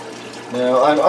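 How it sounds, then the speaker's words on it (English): Aquarium water change on a gudgeon tank: water siphoned out through a gravel vacuum while fresh water pours back in. A steady trickling, pouring wash swells and grows louder midway, with some talking. "I'm obviously pulling water out at the same time I'm putting water in"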